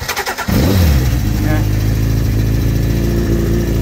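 A motorcycle engine catches after a brief starter crank and settles into a steady, loud idle that runs on close to the microphone.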